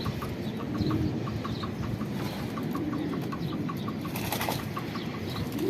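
Pigeons bathe in shallow water, wings flapping and splashing in a steady busy wash of noise, with occasional soft bird calls and chirps throughout.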